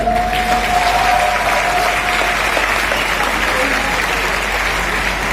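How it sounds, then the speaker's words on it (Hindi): An audience at a direct-selling company event applauds the CEO's product announcement with a steady, dense wash of clapping that holds at even loudness throughout. "बजा सकते हैं ताली"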